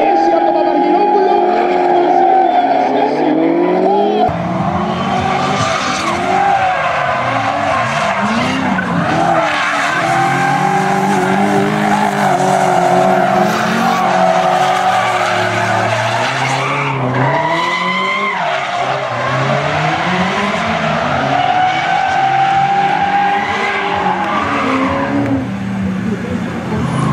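Drift race cars at a DriftWars round skid with engines at full throttle, loud sustained engine howl and tire scrub with shifting pitch, plus a crowd or commentary wash under it throughout.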